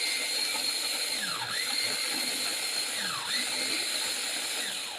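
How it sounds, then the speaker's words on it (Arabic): Onion being ground in a food processor, a continuous high whirring motor with slight pitch dips as the load shifts, close and steady throughout. "راني نطحن البصل"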